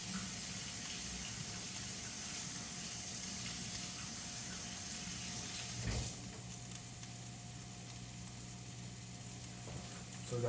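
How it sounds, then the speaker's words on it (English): Mushrooms being washed under a running kitchen tap, a steady broadband rush of water that dips briefly partway through, with a faint sizzle of eggs frying nearby in the background. "I'm about to wash these mushrooms and toss those in there."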